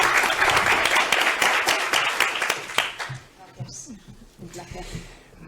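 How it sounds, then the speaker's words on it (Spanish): Audience applause at a round-table event on workplace stress, a dense burst of clapping that fills the first three seconds and then thins out, giving way to scattered claps and murmured talk. "Así que un aplauso, por favor."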